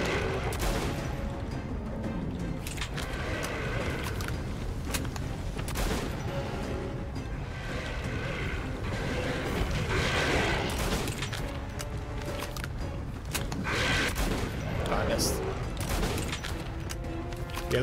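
Shotgun blasts in the video game Metro Last Light Redux, fired repeatedly amid dense, continuous combat noise and mechanical clatter, loud and close throughout.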